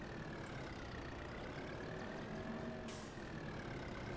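A small Kubota tractor in Farming Simulator 22 runs with a steady, low engine drone, constant and moderately loud with no other sounds over it.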